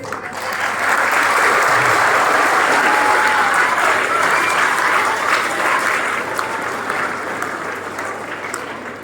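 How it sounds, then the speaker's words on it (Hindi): A hall full of school students applauding themselves, a long loud wave of clapping that swells quickly, holds steady, then slowly tapers off, with faint crowd murmur mixed in. "अपने लिए ताली बजाइए"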